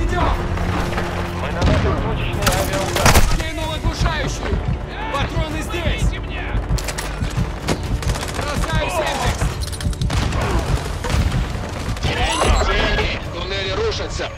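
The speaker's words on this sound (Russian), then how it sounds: "Мы наносим точечный авиаудар." Precision airstrike in Call of Duty Warzone 2.0, a chaotic stretch of explosions, booms and gunfire mixed with shouted Russian voice chatter throughout.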